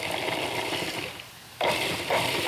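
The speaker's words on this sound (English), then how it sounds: "And I'm putting it in my food processor" A food processor pulses in short motor bursts, a whirring run that stops briefly and then restarts loudly, heard alone without talking.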